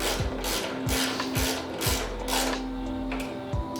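A ratchet clicks steadily while tightening bolts on the fender support of an Indian Scout Bobber motorcycle, near and clear, in a regular rhythm of repeated strokes with a continuous mechanical whir behind.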